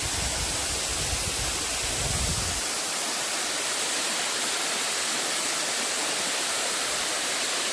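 Water rushing at Bride's Pool waterfall: a constant, loud broadband roar of falling water, with a low rumble in the first seconds, steady throughout and no voices.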